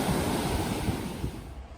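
Ocean surf rolling in at Ormond By The Sea beach, a broad steady wash of waves with wind noise, fading slightly at the end.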